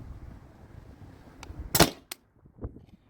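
A paintball marker running on a CO2 tank fires a single sharp, loud shot, then a short quieter clatter follows as the sound fades.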